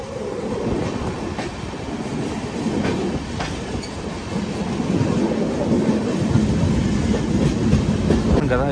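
Visakha Express passenger train running on the line near Hyderabad, a steady loud rumble of wheels and coaches with rhythmic clickety-clack over rail joints, continuous and close throughout.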